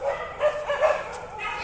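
A dog barks several times at a distance outdoors during a fitness walk, the short yips rising over steady background noise while someone speaks.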